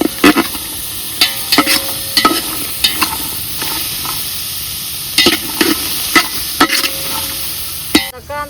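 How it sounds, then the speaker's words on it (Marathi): Onion dry-roasts without oil in a pan on a wood-fired clay stove, stirred with a spatula: repeated scraping strokes, then pauses, over a steady dry crackle, close and fairly loud. "कांदा चांगला कोरडा होतोय आपला. आधी असा कोरडा करायचा आणि मग त्याला तेल टाकून बी परतायचंय."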